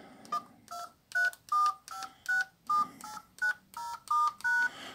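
Keypad tones from a 2002 Nokia 5210 mobile phone, a run of about twelve short, clear beeps in quick, slightly uneven succession as buttons are pressed, close and fairly loud with no talking.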